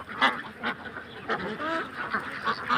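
Ducks swimming on a river at a Belgian duck farm give a string of nasal quacks and honking calls, several birds overlapping at moderate distance with no one speaking.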